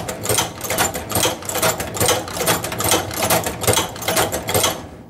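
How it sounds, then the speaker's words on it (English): A leather sewing machine stitches leather at close range, its needle hammering in a fast, even rhythm of sharp mechanical clatter with no pauses. "we'll continue sewing down the piece"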